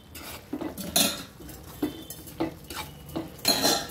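Drumstick (moringa) pieces tossed into a pan of tomato curry and stirred, with a few loud metal clanks of spoon against pan and softer scraping in between, close up.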